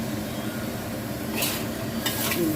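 Sato beans and minced pork stir-fried in a pan give a steady soft sizzle, with a couple of brief scraping stirs near the end and no talking.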